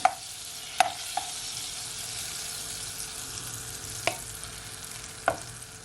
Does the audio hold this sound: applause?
no